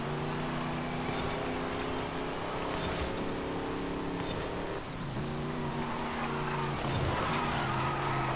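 A Nissan Safari Turbo racing in A Class in Forza Horizon 5, its engine droning steadily with shifting pitch, tires squealing and skidding through corners, and no one talking.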